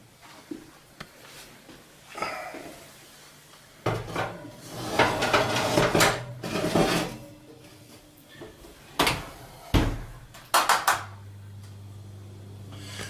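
Metal pot and lid clatter in a kitchen as a roasting pot is covered with its lid and slid into an oven, with several sharp clanks, scrapes and a final thud of the oven door closing nearby.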